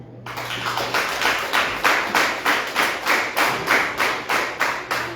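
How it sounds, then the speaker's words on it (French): An audience claps in unison at a festive religious gathering, a steady rhythmic beat of about a dozen sharp, even claps sounding moderately close and loud, with no talk over it. "Applaudissez mon Dieu."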